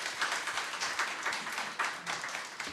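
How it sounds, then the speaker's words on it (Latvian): Steady applause from a conference audience welcoming a speaker, a dense wash of many hands clapping at even volume throughout. "Sagaidām attiecīgi ar aplausiem"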